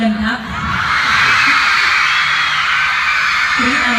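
Crowd screaming and cheering loudly from below at a youth gathering at a scout camp, a sustained roar of many voices with occasional sharper shouts, continuous throughout.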